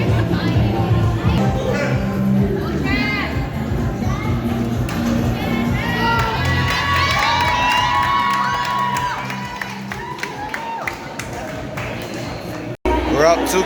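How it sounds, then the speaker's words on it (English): Crowd cheering at a Pacific Games 2019 bronze medal match against Tahiti: a loud, lively mass of shouts and cheers, with children's voices, carrying for most of the clip before dropping away, with talk mixed in. "Crowd's getting fired up."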